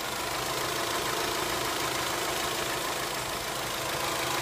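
A 2003 Dodge Stratus 2.4-liter DOHC four-cylinder engine idles on a test at an auto wrecking yard, a steady even hum with broadband hiss throughout, close and constant with no talk.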